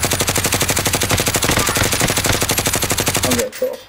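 Rapid automatic gunfire from a video game shooter, a loud sustained burst of evenly spaced shots that stops abruptly near the end.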